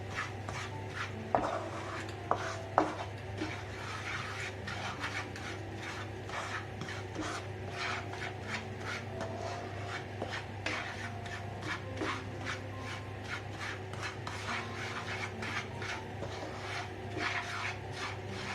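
Cornmeal and butter are stirred in a pot to make kuymak, a steady close scraping and rubbing that continues without pause and without talk.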